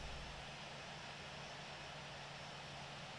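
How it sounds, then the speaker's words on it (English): Airliner engine spooling up during start in the Infinite Flight simulator, a Ryanair jet at London Stansted, heard as a steady, broad continuous roar with no talk over it. "Start engine number 1."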